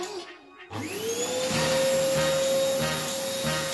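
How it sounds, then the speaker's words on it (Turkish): A yellow Fortis vacuum cleaner starts up and runs close by, a steady loud motor roar with a rising whine that settles into a constant tone, with faint rhythmic rubbing pulses as it works. "Şu an çalıştırmış olduğumuz süpürge makinemiz bu sarı Fortis'imiz."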